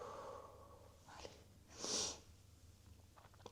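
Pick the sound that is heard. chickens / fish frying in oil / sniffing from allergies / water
sniffing from allergies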